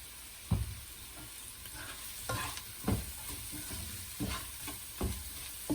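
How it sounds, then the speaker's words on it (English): Paneer butter masala fries in a pan over a medium flame with a soft, steady sizzle. A spoon scrapes and stirs through the pan at irregular intervals, and nobody speaks. "It has to be fried in medium flame for at least 7 to 10 minutes."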